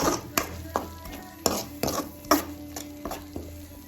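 Masala with curd fries in a pan for an okra curry while a spoon stirs it, giving a soft continuous sizzle broken by regular scraping knocks against the pan, close and clear.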